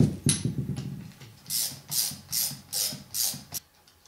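A ratchet clicks in a run of about five even strokes while a bolt is loosened on an Audi 016 Quattro transmission, each stroke a crisp, close metallic burst after a brief jumble of tool handling.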